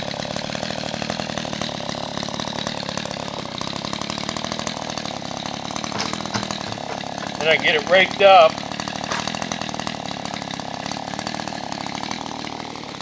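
An Echo brush cutter fitted with a brush blade whines steadily at high revs throughout while someone speaks over it.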